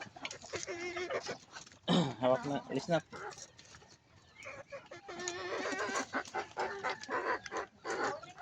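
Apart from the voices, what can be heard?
chickens clucking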